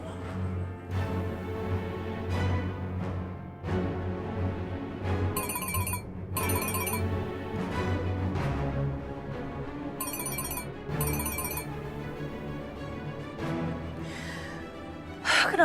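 An unanswered phone rings repeatedly in a drama scene, two pairs of bright electronic ringtone bursts sounding over steady background music, moderately loud and close.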